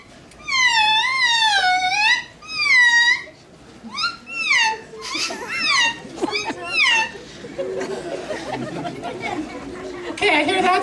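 A voice imitates a dolphin with several bursts of high, wavering squeaks and whistles, followed by chuckling and murmured chatter.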